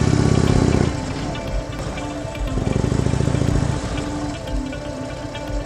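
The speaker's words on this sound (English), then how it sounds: "I'm going to release the clutch ever so slightly until it starts to bite." Motorcycle engine pulling away uphill, a loud, close throbbing drone that surges briefly, dips, then rises again as the bike engages gear and settles into a steady mid-pitched running note.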